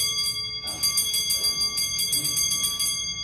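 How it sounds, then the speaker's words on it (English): The iron bell of an antique Frisian stoelklok alarm clock from 1714 rings loud and fast, a rapid metallic clatter of hammer strikes with a ringing tone, briefly pausing then resuming. "the bell is made out of iron, so it's very loud"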